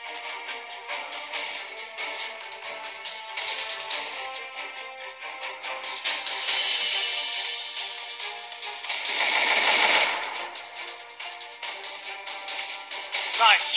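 Naval gunfire in the Naval Front-Line video game, with a sustained loud barrage of crackling shots and booming blasts that swells toward the end and then trails off.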